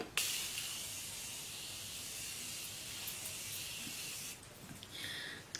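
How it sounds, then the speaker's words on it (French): A Morphe Continuous Spray setting spray mists out in one long, close, airy hiss lasting about four seconds, then gives way to quieter handling sounds. "en attendant je vais mettre mon Morphe Continuous Spray."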